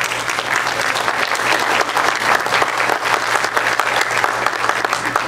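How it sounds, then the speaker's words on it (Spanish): An audience at a women's day tribute in Cartavio applauds a local Miss Santiago de Cao 2018 winner, a loud, full burst of clapping that carries on steadily with no voices over it. "para quien pido un fuerte aplauso"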